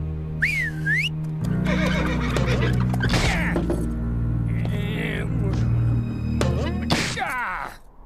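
A cartoon horse from Courage the Cowardly Dog neighs and whinnies amid busy soundtrack effects and whistles, loud and close with voices and music mixed in.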